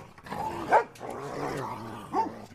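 A dog barks a few times up close, short sharp woofs with a brief pause between them.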